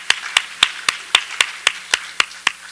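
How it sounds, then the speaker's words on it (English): Loud, close hand claps, about ten crisp, evenly spaced strikes, sound like a single person at a live-streamed talk slowly clapping alone. "let's give them a round of applause"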